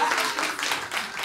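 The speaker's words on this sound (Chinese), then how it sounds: "掌声鼓励，" A small live audience claps briefly at a Taiwanese indigenous youth chanting group's performance, a short burst of rhythmic clapping for a little over a second.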